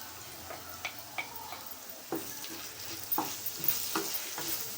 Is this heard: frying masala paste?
yes